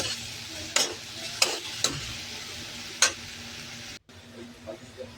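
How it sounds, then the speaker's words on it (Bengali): Ginger-garlic paste fries with chopped onions and spices in a pan for Kashmiri aloo dum, a soft steady sizzle cut by a few sharp scrapes and taps of the spoon as it is stirred. "এটাকে ভালো করে আদা রসুনের গন্ধটা যাওয়া অবধি নাড়তে হবে"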